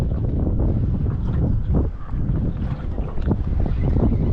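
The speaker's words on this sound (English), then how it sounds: "Sorry about that wind" Strong wind buffets a fishing boat out on the water during a mangrove jack trip, a loud, steady roar of gusts across the microphone with no pauses.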